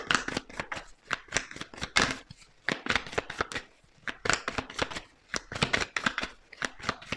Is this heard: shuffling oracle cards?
yes